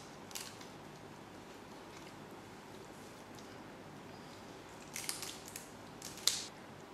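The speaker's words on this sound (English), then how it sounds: "We will start cutting that bone out." Kitchen shears snip through a raw chicken's backbone in a few short, crunchy cuts, quiet and close, the sharpest crunch near the end against a faint room hush.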